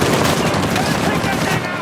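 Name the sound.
machine-gun turret firing in the video game Uncharted 4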